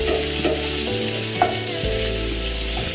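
Onions frying in a pan for a soya chunk (meal maker) gravy, a steady loud sizzle with stirring scrapes throughout and no talking.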